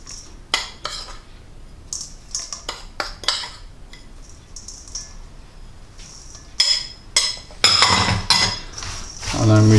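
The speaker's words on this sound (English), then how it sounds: "we just make sure that the apple is well coated with that sugar mix" Apples being tossed with a dry sugar mix in a bowl for a homemade apple pie, with repeated close clinks and scrapes of a utensil against the bowl, building to denser clattering near the end.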